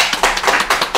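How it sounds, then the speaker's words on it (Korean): An audience in a lecture hall claps together, a close, dense burst of applause with no voices over it. "자, 다시 박수 좀 부탁드립니다"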